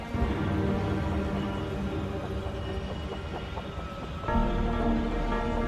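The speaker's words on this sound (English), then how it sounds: "The rain just happened out of nowhere." Rain in the video game Wuthering Waves, a steady wash of falling rain mixed with a dense game soundtrack and ambience, swelling slightly louder near the end.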